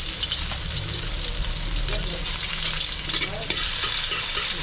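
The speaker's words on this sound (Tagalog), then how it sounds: "Gisa muna tayong bawang." Garlic sautéing in a pan for adobong sitaw, a loud continuous frying sizzle with stirring scrapes throughout.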